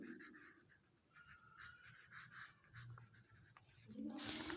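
A pen writes numbers on paper during a grade-four maths lesson, producing soft scratchy strokes in short bursts at close range. A louder rub or scrape comes at the very end.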